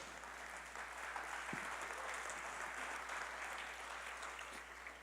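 A church congregation applauds during a sermon, a broad, even rush of many hands clapping at moderate distance, sustained without a break for the whole stretch.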